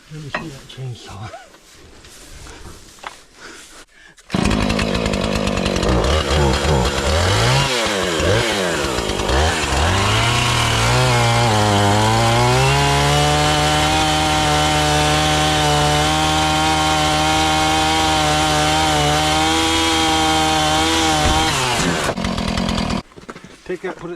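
A chainsaw cutting wood in a hay field, quiet rustling and brief talk at first, then the engine snaps to a loud, sustained whine that dips and rises in pitch under load for nearly twenty seconds before cutting off abruptly.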